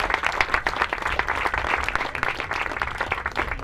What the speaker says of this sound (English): So if we can give Megan and Nicole a big round of applause.